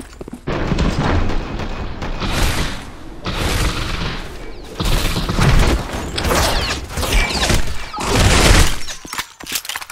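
Rapid gunfire in a violent GoldenEye 007 mod shooter, bursts of loud, sharp shots with booming, clattering impacts coming in clustered volleys over ten seconds, with brief pauses between them.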